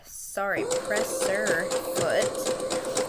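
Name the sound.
sewing machine stitching chiffon ruffles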